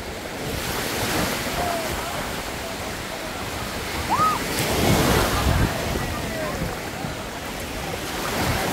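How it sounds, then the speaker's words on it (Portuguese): Strong wind buffeting the microphone and surf breaking on the crowded Praia de Bombas beach in Bombinhas, Santa Catarina, a steady roar with swells of gusts, a voice faintly present. "Olha o vento aí, o vento já derrubou o guarda-sol ali, ó."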